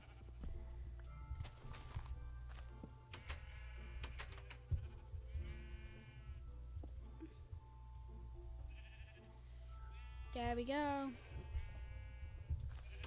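Sheep bleat several times, sometimes wavering, over a steady low farm-game drone with scattered clicks and a brief spoken line.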